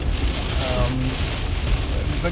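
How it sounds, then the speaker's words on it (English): Rain falls outdoors in a steady, close patter on surfaces around a moving car, with a faint tone and low rumble underneath. "Hopefully the rain isn't sort of destroying the sound quality of this video"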